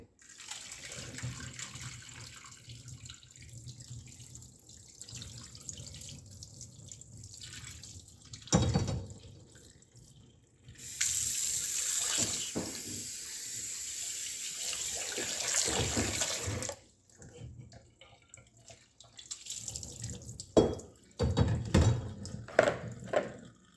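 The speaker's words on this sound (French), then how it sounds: "je vais maintenant bien rincer mes épinards" Tap water runs in a kitchen sink as spinach is rinsed, a steady hiss that swells louder for several seconds in the middle, then breaks into splashes and drips near the end.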